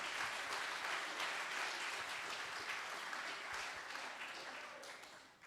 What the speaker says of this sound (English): can you give them a high five, a pat on the back, a round of applause,